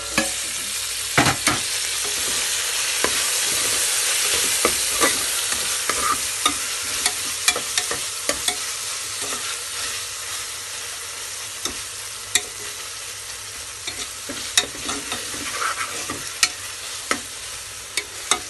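Finely chopped tomato fries with garlic paste for egg biryani, a continuous sizzle punctuated by sharp spoon-on-pan stirring clicks that grow sparser toward the end.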